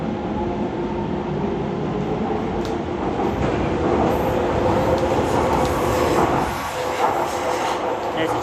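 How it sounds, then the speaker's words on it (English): A Docklands Light Railway train runs toward Stratford at night, heard from inside as a steady loud rumble and hum of wheels on track with faint rattles throughout. "On a DLR now. Next stop should be Stratford."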